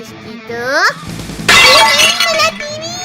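A cartoon television shatters in a sudden bright crash of breaking glass, loud and close, set among squeaky animated cartoon voices and sound effects before and after it.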